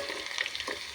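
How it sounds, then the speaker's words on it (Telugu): Garlic cloves frying in hot oil for a dal tempering with curry leaves, a soft steady sizzle with small crackling pops and light stirring scrapes, close and alone with no voices. "వెల్లుల్లి రెబ్బలు ఆయిల్లో వేగాయంటే మంచి స్మెల్ వస్తాయి."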